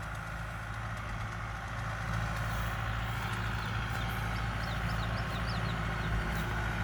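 Kubota M6040 SU farm tractor engine running steadily at close range, a loud continuous low diesel drone with a constant hum throughout and no talk over it.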